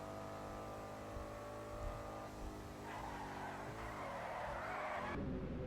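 An SUV engine drones at full throttle in GTA 5, a steady loud harmonic roar that holds throughout with a slight rise in pitch, alone with no talk over it.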